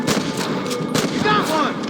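Gunfire in a Western shootout in the video game Red Dead Redemption: a few sharp shots ring out in quick succession amid steady background game noise, fairly loud and close.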